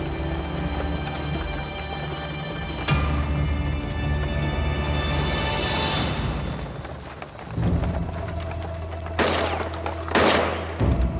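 Gunfire during an attack at a harbour after an Austrian ship is struck, with sustained crackling volleys and booming impacts under a dense, loud battle din, ending in two sharp bursts of shots.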